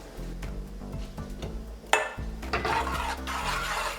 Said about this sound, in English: I'm just gonna take my pot over to my stove, and I'm gonna place it on low heat.